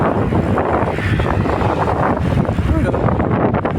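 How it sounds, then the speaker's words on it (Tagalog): Steady wind rushing past the microphone, a loud continuous buffeting roar with rumbling low end throughout. "Sarap pa rin ng simoy ng hangin rito."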